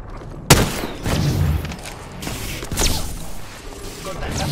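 Gunfire in the video game Apex Legends comes as a sharp opening shot, then scattered booming blasts and thuds over a constant rumble of battle noise, with a voice speaking in Spanish between the shots.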